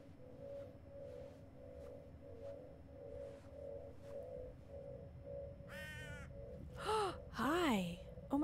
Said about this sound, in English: Oh my god, a bird.